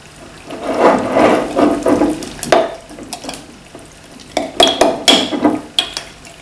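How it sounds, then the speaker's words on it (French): A spoon stirs a blended breakfast mixture in a bowl, with a run of wet, uneven scraping and clinking strokes, close and fairly loud, no talking over it. "Là on va pouvoir remuer."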